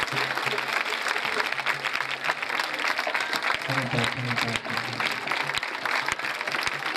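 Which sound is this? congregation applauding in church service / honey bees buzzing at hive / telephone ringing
congregation applauding in church service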